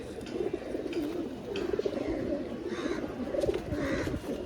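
Old-generation pigeons coo amid a dense, steady murmur of a crowded pigeon market, low rolling calls overlapping one another with constant background bustle.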